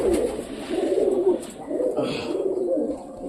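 Pigeons cooing in soft, rolling low calls after being given a homemade summer drink, several overlapping coos close by with faint background rustle.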